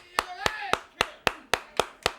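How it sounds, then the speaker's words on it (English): Eight slow, evenly spaced hand claps from a pro wrestling show's promo segment, close and sharp, with a voice briefly speaking between the first few claps. "I got to clap for you."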